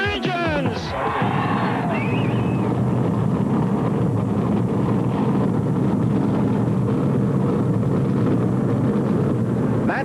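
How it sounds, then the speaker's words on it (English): Stock car engines starting up at the 1985 Winston 500 at Talladega, a dense, loud, steady roar that builds after a brief opening and holds throughout. "That's the command that sends the engines roaring into life"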